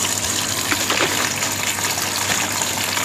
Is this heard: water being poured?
yes